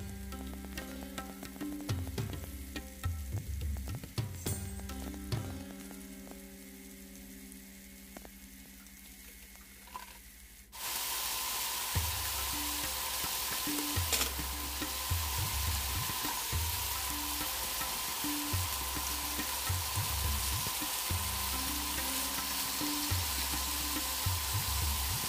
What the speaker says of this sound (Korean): 고기를 굽겠습니다. 중불로 굽겠습니다.